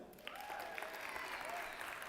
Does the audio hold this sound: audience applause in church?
yes